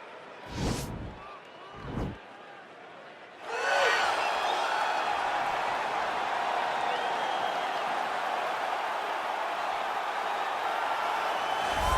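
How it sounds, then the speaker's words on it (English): In EA Sports UFC 4, an arena crowd swells into a loud, sustained roar as a heavyweight fighter begins his walkout, preceded by two brief whooshing hits. "Well, you hear the pop from the crowd, DC, as Nate Diaz gets set to make this walk"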